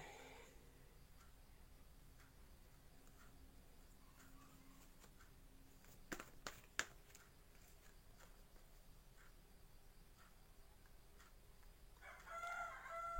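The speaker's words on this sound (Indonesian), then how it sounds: "Ada bunyi ayam ya. Kebetulan ada yang pelihara ayam." A rooster crows in the morning, faint and distant over a low steady background hum, with a louder burst of crowing near the end.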